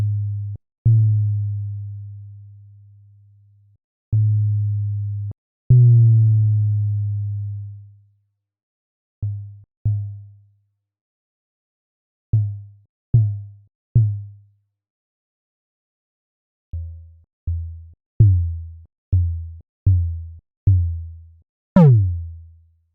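Anukari, a virtual ball-and-spring physics synthesizer, sounds a series of short plucked, plopping tones. Some ring out longer and others die away fast as the ball's mass and damping change, ending in a quicker run of notes and a bright ping.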